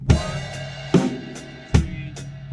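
Drum kit playing a short fill: three hard hits combining kick drum and crash cymbal at roughly even spacing, with lighter hi-hat and snare strokes between, loud and close with no talk.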